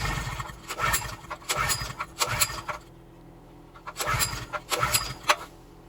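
Small Wacker Neuson GP6600 generator engine, cold and fed starter fluid, sputtering in repeated short bursts that catch briefly and die, with a pause before a second run of uneven firing.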